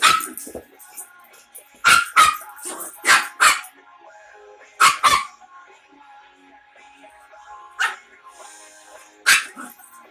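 A Chug, the pug and Chihuahua cross, lets out playful barks in clustered pairs and singles, loud and close, separated by stretches of near silence inside a home.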